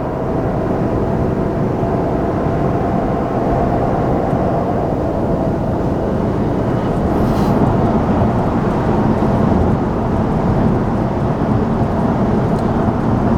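Steady, loud drone of a third-generation Toyota Tacoma with a KDMax tune accelerating smoothly on the highway, heard from inside the cab, with engine and road roar holding constant throughout.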